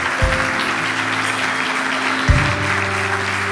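A church congregation applauds with steady dense clapping while sustained organ or keyboard chords ring underneath, with deep bass thumps marking two chord changes.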